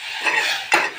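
A spoon stirs karal chutney in a metal pan, two scraping clinks of utensil on pan over a faint sizzle, no talking.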